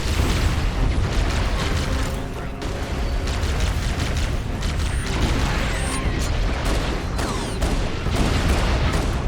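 A grenade explosion in Halo CE Anniversary bursts loud and close inside a dense stretch of continuous game combat noise, with crashing debris, gunfire and rumbling all the way through.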